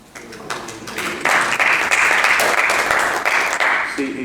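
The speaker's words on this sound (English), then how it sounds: "it's easy to get a big round of applause" A round of applause breaks out in a city council chamber, steady clapping from many hands swelling after a quiet start and holding level before easing off near the end.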